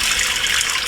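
Water poured into an Instant Pot holding beans, a brief, loud, bright rush of liquid that runs steadily without pause.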